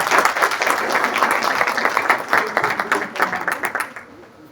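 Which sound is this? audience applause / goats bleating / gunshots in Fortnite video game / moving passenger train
audience applause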